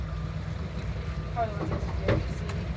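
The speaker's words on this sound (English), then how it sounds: "let's go on a boat ride" A sightseeing and dolphin-watching tour boat's engine drones steadily at a low pitch, close by, with wind noise and faint background activity over it.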